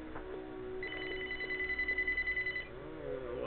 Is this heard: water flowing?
no